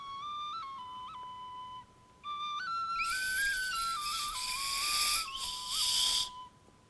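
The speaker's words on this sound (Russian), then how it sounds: "эта свистулька еще звучит" A shrill Crimean Tatar clay toy whistle, with a broken fragment patched by a finger, is blown in several bursts, its warbling pitch stepping up and down, the last stretch louder and breathier.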